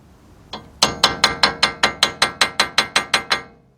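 A small hammer taps a wheel stud into a 2006 Kia Sorento front hub about a dozen times in a steady, even rhythm, each strike sharp and ringing, close up with no talking.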